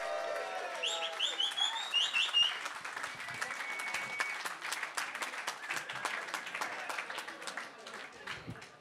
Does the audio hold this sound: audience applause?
yes